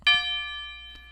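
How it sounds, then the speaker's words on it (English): A single bright church bell strike, a one-shot sample for a beat, rings out close and clear, its tone sustaining and slowly fading over about a second. "Oh yeah, I found that church bell."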